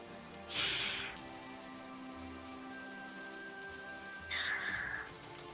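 Rain patters steadily through a bamboo forest at night, a soft even hiss of drops with faint tonal hum beneath, interrupted twice by short louder whooshing bursts.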